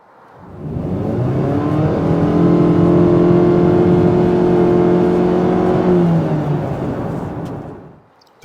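Jeep Patriot Limited engine with a CVT revving, a droning, tractor-like tone that rises in, holds a steady sustained pitch for several seconds, then fades away, with no talking.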